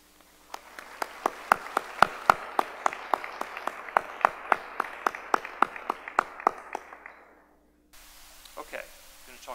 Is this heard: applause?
yes